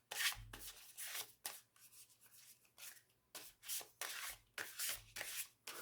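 Tarot cards from a new deck being riffle shuffled by hand, a close, quiet run of repeated brushing and riffling bursts with brief pauses between them, alone with no voices.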